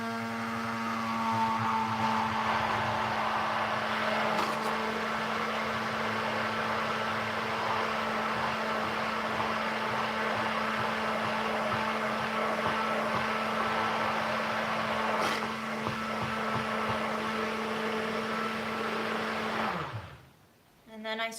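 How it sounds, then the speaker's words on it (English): An immersion blender froths matcha in a kitchen, giving a steady, loud motor whine that runs unbroken for about twenty seconds before winding down and cutting off, with no talk over it. "then I immersion blend it to froth it up"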